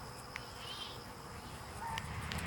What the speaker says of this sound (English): It seems like there's a pretty steady flow of bees in and out that know right where to go.